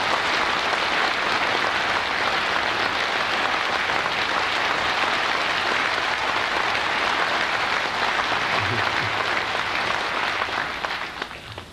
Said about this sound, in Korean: 이 박수는 내게 한 게 아니라 당신께 한 거라는 걸 알아요.